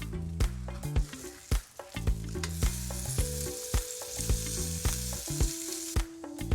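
A smoked chicken quesadilla with raw onions, little tomatoes and red pepper sizzles on a griddle after being flipped. A steady frying hiss runs beneath loud rhythmic music with a strong beat, with no talking.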